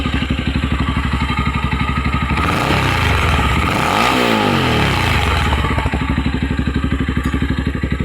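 A Motorstar 200cc motorcycle engine idles steadily after its carburetor was cleaned and tuned, a loud close putter with a brief throttle blip and rev rise in the middle before it settles back to idle.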